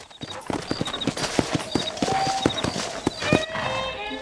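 Horse hooves clip-clop steadily in Red Dead Redemption, a brisk run of sharp, evenly spaced clops sounding close and clear over faint ambient game sounds and a soft whinny near the end.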